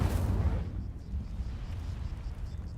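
An Incendio fire spell is cast in a wizard video game: a loud, sharp burst opens, then a dense, rumbling roar holds steady to the end.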